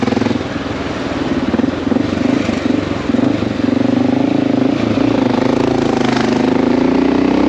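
A Honda XR650L single-cylinder motorcycle rides through Brooklyn city streets, its engine droning loud and close with a steady thumping note that slowly rises in pitch as it accelerates.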